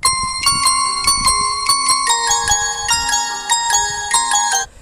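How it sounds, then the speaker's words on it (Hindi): A bright, tinkly electronic ringtone melody plays steadily, layered chiming tones in a repeating pattern, loud and close, then cuts off abruptly. "यहाँ पे लव रिंगटोन"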